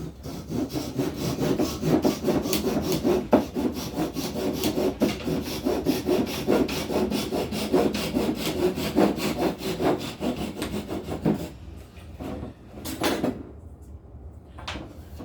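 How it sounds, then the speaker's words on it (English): A pull saw cuts through a wooden dowel with quick rhythmic rasping strokes, steady for several seconds, then a few slower final strokes and a pause. "put some glue on this doweling, grab our pull saw"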